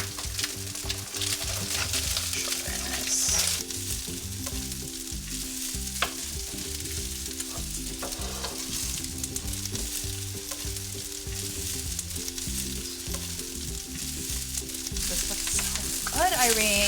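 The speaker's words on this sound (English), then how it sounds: "so Indian rice, jasmine rice, and it's dancing in the pan" Jasmine rice frying in a pan gives a loud, continuous sizzle with stirring and scraping throughout, close up and steady for the whole stretch with no talking.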